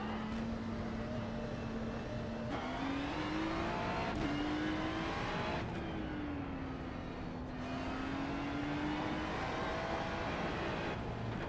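Ferrari GT3 race car in a racing video game at Sebring, its engine droning steadily and loud throughout, pitch rising and falling with gear shifts and throttle changes, with no talk over it.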